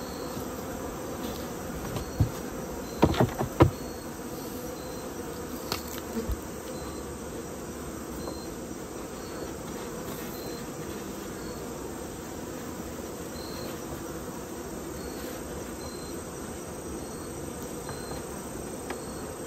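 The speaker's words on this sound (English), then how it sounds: "Let's take those bees off. They're getting riled up." Steady buzzing of agitated honey bees during a queen replacement drones throughout at moderate level, with a few brief louder clicks and bumps early on.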